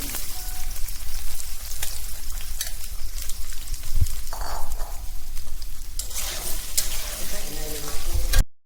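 Pointed gourd and potato pieces frying in oil over a lowered flame, a steady close crackling hiss that runs throughout with some kitchen clatter.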